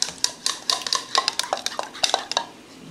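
Batter for green bean fritters whisked in a bowl with cheese mixed in, giving quick, irregular clinking and scraping taps, close and fairly bright, with no talking.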